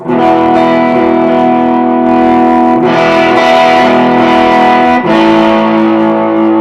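Electric guitar played through the heavily distorted dirty channel of a VHD amp with a wash of plate reverb from an HX Effects unit, sustained chords ringing loud and thick, changing a couple of times.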